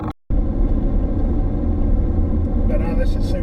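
Ford Focus on a test drive after new front shocks and struts, rolling over a few small bumps with a steady low road rumble and engine drone throughout; it starts after a brief dropout and stays loud and constant.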